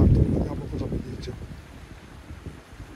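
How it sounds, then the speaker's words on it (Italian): Wind blows outdoors in strong rumbling gusts against the microphone, loudest at the start and then easing into a lower, steady buffeting. "fuori c'è vento"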